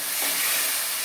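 Ground tomato hits a hot pan for an egg masala curry, a steady, loud, close sizzle and hiss that fills the short moment with no talk.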